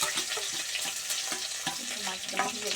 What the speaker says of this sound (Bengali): কড়াইতে দিয়ে দিয়েছি আমি তেল আর দিয়ে দিলাম পেঁয়াজ কুচি দিলাম